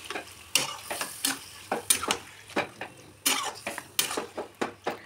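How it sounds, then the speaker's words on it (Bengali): Taro leaves being stirred in hot oil in a pan: a series of scraping, sizzling strokes in an uneven rhythm, close and moderately loud, with short pauses between bursts of stirring. "এবার আমি কচু শাকটা ভালো করে তেলের সাথে সব কিছুর সঙ্গে একটু নাড়িয়ে দিয়ে"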